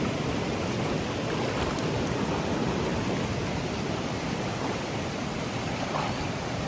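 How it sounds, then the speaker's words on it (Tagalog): River water rushes steadily around someone wading across a shallow river on the way to school, a constant, loud, broad wash of flowing water with no voices. "mababasa ka talaga kasi dadaan ka ng ilog"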